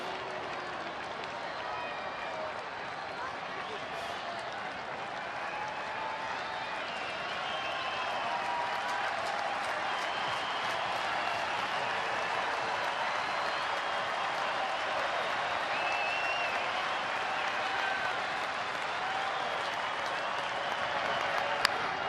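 A sold-out baseball crowd of more than 40,000 on its feet, cheering and applauding in a continuous roar across the stadium, swelling gradually louder with scattered claps and shouts throughout.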